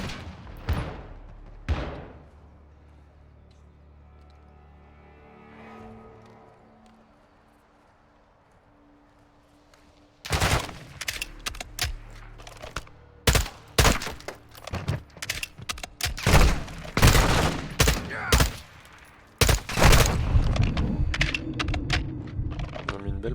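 Firefight gunfire from Modern Warfare 2, starting after a quieter stretch with a couple of isolated shots, then erupting into loud repeated bursts and sustained automatic fire, with French voices heard briefly.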